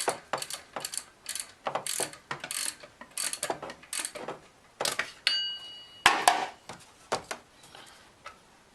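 A ratchet loosens a bolt on the idler pulley of a 2001 Mazda B4000 pickup, giving a steady series of close, crisp clicking strokes with a brief metallic clink partway through.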